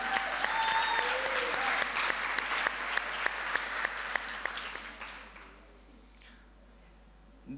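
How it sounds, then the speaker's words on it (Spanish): Audience applause at a TED-Ed club talk: a crowd claps steadily for about five seconds, then the clapping fades out into quiet room tone. "Un aplauso para ella."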